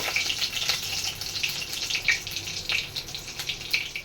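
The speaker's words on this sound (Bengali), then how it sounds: "শুকনো লঙ্কা দিয়ে দিলাম, তেজপাতা দিয়ে দিলাম, আর সাদা জিরা দিয়ে দিলাম।" Dried red chillies, bay leaves and white cumin sizzle in hot oil as a tempering for potato dal with soy chunks: a close, steady crackle with bright spits and pops scattered throughout.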